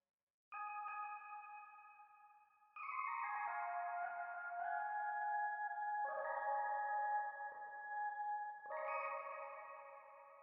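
A warm analog synth pad drenched in heavy reverb holds soft sustained chords that shift every couple of seconds, smooth and moderately quiet, with no voices.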